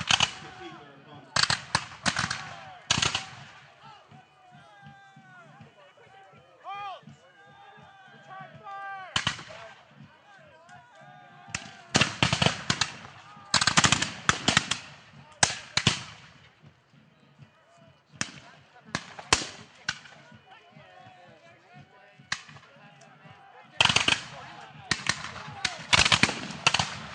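Musket fire rings out at a re-enactment of the Battle of Crysler's Farm on its 200th anniversary: loud single shots and ragged volleys crack irregularly across the field, some near and some more distant.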